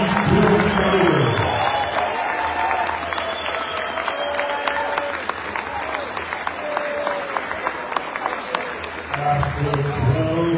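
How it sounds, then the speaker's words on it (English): Crowd applause fills an arena after a 2024 IBO flyweight title boxing bout, steady and sustained clapping with scattered cheers while an announcer's voice carries over the noise. "may we please have a round of applause for these two individuals"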